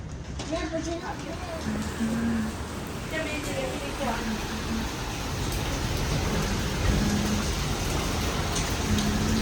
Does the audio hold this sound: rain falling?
yes